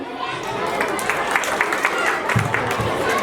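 Applause from a school audience at a Republic Day celebration, a dense steady wash of many hands clapping together with crowd noise throughout.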